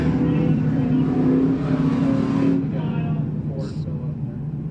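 Pro stock dirt track race cars roar around a speedway turn under a yellow flag, engines droning loud and steady before easing off, with a race commentator talking over the engine noise.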